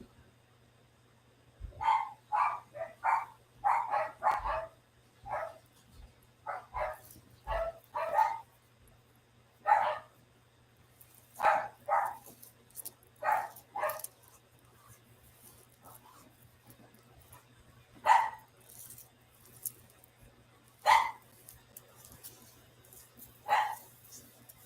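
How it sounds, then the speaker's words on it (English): Dogs bark and yip in the background in scattered bursts, some quick clusters early on then single barks spaced further apart, over a low steady hum. "I know y'all hear the doggies in the back."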